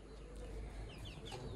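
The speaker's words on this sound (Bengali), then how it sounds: "এই যে আমার মুরগিগুলো এখানে রেখে গেলাম।" Chickens at home give a few soft, distant clucks over a low background rumble.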